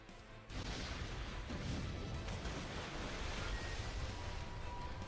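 Explosions erupt in Harvestella as a sudden surge of heavy, sustained rumbling blast noise that starts abruptly and churns on loudly with no voices over it.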